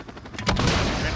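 Gunfire in Call of Duty Modern Warfare 2019 is aimed at an enemy soldier with an RPG, a sudden loud burst of rapid shots rising out of quieter game noise.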